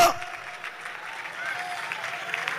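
A church congregation at a Church of God general convention claps together in steady, dense applause for about three seconds, continuous and fairly even with no break.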